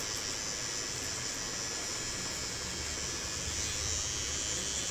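Electric hair trimmer fitted with a zero-number guard cutting hair during a V-shaped boy's haircut, a steady close buzzing hum that runs unbroken throughout without talk.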